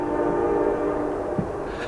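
A train horn blows near a state forest campground in Florida, a sustained loud tone held throughout with the rumble of the passing train beneath it.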